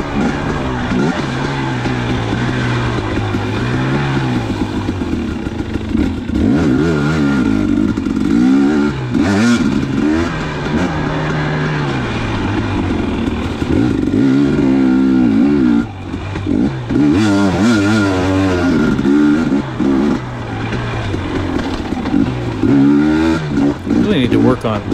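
A 2019 KTM 250xc two-stroke dirt bike laps a forest trail at Johns Peak, Lilly Prairie, its engine loud and close, revving and bogging constantly with clattering over rough ground.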